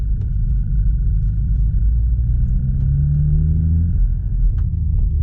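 A BMW 340i with a B58 engine and Spool Performance FX-150 high-pressure fuel pump, heard from inside as a steady low rumble rising under throttle, with a faint whine over the engine drone.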